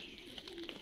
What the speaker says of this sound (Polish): Tak, gołąbki rozpłodowe se tu siedzą.